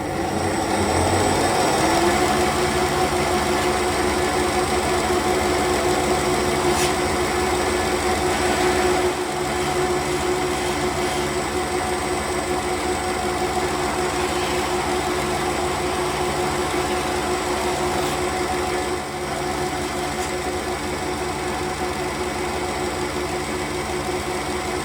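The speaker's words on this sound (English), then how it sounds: "Now I'm going to clean up these faces using Scotch-Brite belt on the belt sander again." A belt sander fitted with a Scotch-Brite belt cleans up the faces of an old hammer, making a steady, humming motor drone with a faint grinding rasp that carries through the whole stretch, with no talking.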